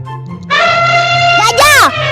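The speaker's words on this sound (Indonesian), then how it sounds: "Gajah. Betul." An elephant trumpeting: a loud, brassy call that swells and then bends into a sharp rising and falling blast near the end, over light background music.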